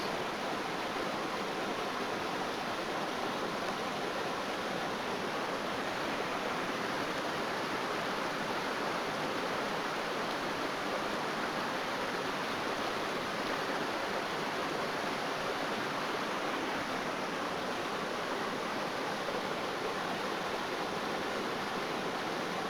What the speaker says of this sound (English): What a stunning cascading waterfall that is.